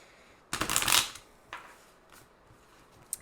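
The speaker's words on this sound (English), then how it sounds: "I'm just going to quickly do one last shuffle" A single quick riffle of a card deck being shuffled up close, followed by a few soft clicks and taps in an otherwise quiet room.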